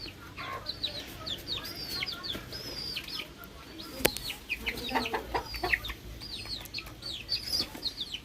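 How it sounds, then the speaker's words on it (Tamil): Backyard fighting chickens cluck and chirp in rapid, repeated bursts, near and moderately loud against a faint outdoor background. There is a sharp click partway through. "என் தம்பி பார்த்தீங்களா கோழிலாம் வளர்க்குறோம்."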